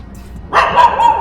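A dog in a residential complex barks three quick times nearby, sharp and loud against a quiet background, with no voices.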